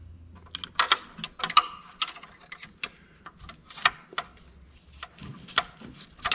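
A wrench ratchets on the 13 mm mounting bolts of a Bosch VE fuel injection pump on a 1.9 ALH VW TDI diesel, a series of close, sharp clicks in irregular bursts.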